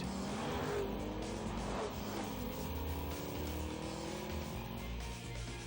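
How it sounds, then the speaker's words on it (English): Ford Taurus SHO with a 365-horsepower EcoBoost V6 accelerating in a TV commercial, a steady loud engine roar with rising revs and road noise sustained across the whole stretch, no talking over it. "365 horsepower generating EcoBoost engine in the all-new Ford Taurus Show"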